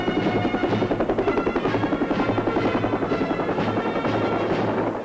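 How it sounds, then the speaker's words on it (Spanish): Military helicopter rotors thump loudly and continuously overhead during a 1978 Armed Forces Day air parade in Spain, a steady rhythmic chopping that fills the whole stretch without any voices. "El desfile aéreo se cierra con 12 helicópteros ligeros del Ejército del Aire"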